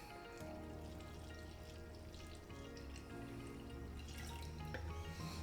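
Water pours into a protein shaker bottle while making an instant kava protein shake, a faint continuous trickling and splashing running steadily throughout.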